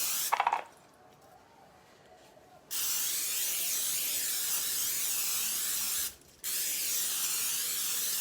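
Two bursts of cooking spray hiss loudly up close into a casserole dish, a long spray followed by a brief pause and another steady spray.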